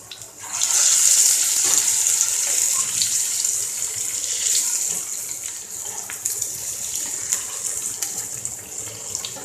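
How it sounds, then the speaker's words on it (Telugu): Urad dal vadas (garelu) are frying in hot oil with a loud, steady sizzling hiss that holds for several seconds without any speech. "మన ఆయిల్ కాగింది. మనం తయారు చేసుకున్న గారెలు ఇందులో వేసుకుందాం."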